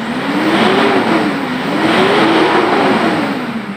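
A Mitsubishi engine with an EGR system fault revs repeatedly toward about 5000 RPM, its pitch swelling and easing in smooth waves, loud and close with a hissy background and no talk.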